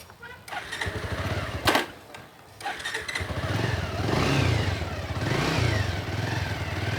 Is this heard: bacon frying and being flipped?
no